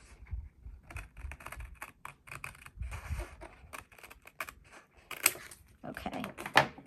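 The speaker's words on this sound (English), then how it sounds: "I'm just going to use scissors since I'm going straight." Scissors snip straight across a single page of a creative paper journal, a series of short, close crisp cuts with small pauses between them, fairly quiet.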